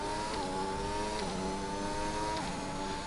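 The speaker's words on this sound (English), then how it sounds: "Is the car loud enough?" Formula 1 race car engine in F1 2021 on the Baku street circuit, a steady mid-pitched drone held at limited pit-lane speed with slight pitch shifts, continuous and fairly quiet, no voices.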